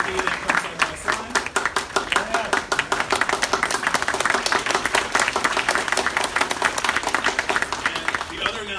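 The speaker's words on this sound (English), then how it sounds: "can we have another round of applause for our wonderful speakers" A sustained round of applause for speakers at a trans and non-binary community forum, with dense, loud clapping from a room of people continuing steadily throughout, and some voices mixed in.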